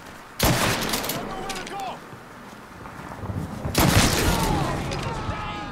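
Gunfire in Mafia III: two loud bursts of shots ring out, one early and one near the end, each followed by a decaying echo, with game noise between.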